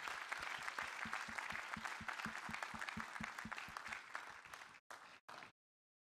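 An audience at a coastal and maritime tourism conference applauds a performing ensemble with dense clapping and a steady rhythmic pulse underneath, soft overall, breaking off in a few stops before cutting out.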